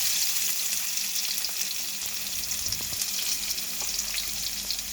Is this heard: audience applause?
no